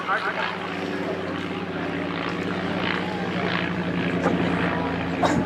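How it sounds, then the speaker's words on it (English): A World War I-era de Havilland biplane flying at an airshow, its propeller engine droning steadily and fairly loud, while a voice speaks over the engine noise. "Jeffrey de Havilland, the designer of this airplane"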